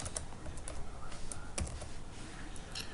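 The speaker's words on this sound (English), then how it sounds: "I'm going to type in UClan remote access" Fingers type on a computer keyboard in a quick, steady run of close, crisp key clicks, with a few sharper taps standing out, for about three seconds.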